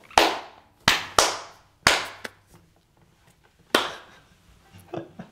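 Sharp hand claps mark a recording take for a cover of a worship song, several loud single snaps with short ringing decay, spaced irregularly in an otherwise quiet room.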